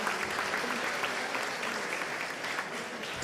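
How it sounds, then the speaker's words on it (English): Steady crowd applause rolls through a pizza awards ceremony in Milan, a thick continuous clatter of many hands at fairly even loudness. "Big applause, everyone."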